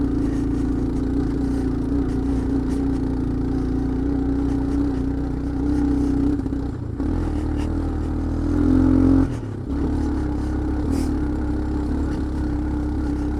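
Suzuki Quadrunner 250 ATV engine running rough and sputtering, a steady close mid-pitched drone broken by a couple of brief dropouts and surges.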